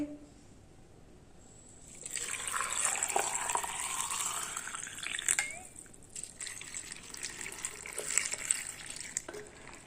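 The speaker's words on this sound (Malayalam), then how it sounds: "ഇനി നമുക്ക് തിളപ്പിച്ചാറ്റി വെള്ളം ഒഴിക്കാം" Cooled boiled water poured into a carrot and beetroot pickle: a faint quiet start, then a steady splashing gush for several seconds that eases off, with a few small clinks near the end.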